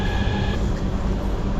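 A white train pulls into a station in Istanbul, on the route out to Istanbul Airport, giving a steady, loud rolling rumble of wheels and carriages with no voices over it.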